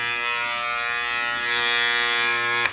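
A Gamma Absolute Hitter hair trimmer runs loudly and close, a harsh steady buzzing drone that holds for several seconds and then cuts off abruptly.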